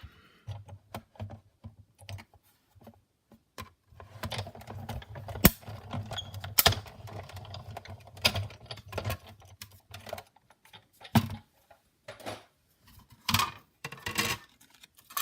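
A die cutting machine feeds a layered card sandwich with a standard cutting pad through its rollers, producing a run of close, clicking and grinding mechanical bursts that come and go over roughly fifteen seconds, with no talk.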